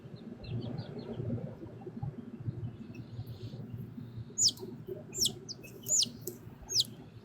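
A chicken being doctored gives a few sharp, high chirping peeps in quick succession near the end, heard close over steady low background noise.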